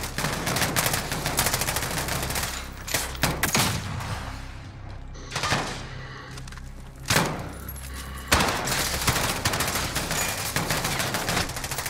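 Gunfire crackles in Call of Duty: Modern Warfare, dense rapid bursts and heavy single shots almost nonstop and loud at close range, with brief lulls between volleys.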